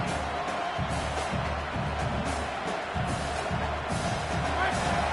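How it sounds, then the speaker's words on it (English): College football stadium crowd roaring in support of the defense, a dense and continuous wall of cheering and noise that fills the whole clip, with a voice talking faintly beneath it. "Listen to this crowd just shaking the girders of this place, trying to help their defense."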